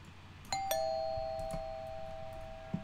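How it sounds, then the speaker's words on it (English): A doorbell rings in the horror video game Fears to Fathom: two bright chimes in quick succession ring out clearly and fade into a long sustained tone over quiet room ambience. "Why would you ring the doorbell?"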